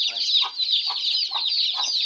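Chickens cluck in a steady, repeated rhythm close by, short throaty notes over a constant high chatter of other birds.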